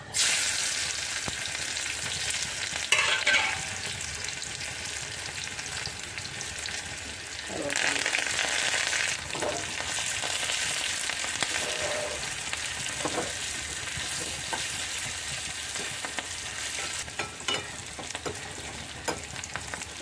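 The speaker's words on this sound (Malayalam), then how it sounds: "ചട്ടി ചൂടാവട്ടെ ഉള്ളി ഇട്ട് കൊടുക്കുക" Onions fry in a hot pan for a curry, a continuous bright sizzle and crackle running throughout, with occasional scraping and stirring bursts over the steady hiss.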